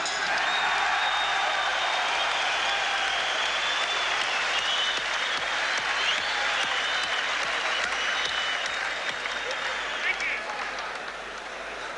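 A boxing crowd applauds during the Orlando Canizales vs Billy Hardy title fight, with sustained clapping and cheering from a large arena audience holding steady for several seconds before easing slightly near the end.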